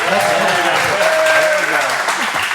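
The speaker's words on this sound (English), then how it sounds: "Yeah, you guys can clap" Studio audience applauding for the Roseville baseball team after its first CIF NorCal state championship, a steady dense wash of clapping that runs the whole time while a voice talks over it.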